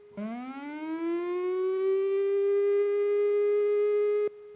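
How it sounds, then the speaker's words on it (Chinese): A civil defense warning siren used for disaster alerts in Hualien County, Taiwan, sounds one long steady tone that starts low, rises quickly and then holds for about four seconds before cutting off abruptly, loud and alone. "警报的声音是低声5秒"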